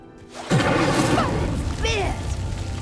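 Incendio fire spell lighting a pyre in the game Hogwarts Legacy, a sudden loud whoosh and boom of ignition followed by roaring flames with a chiming ring, while a voice speaks over it.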